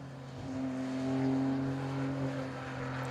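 A Ferrari Challenge race car at Brno during qualifying, its engine note rising and swelling as it draws near and passes, a steady harmonic whine heard alone.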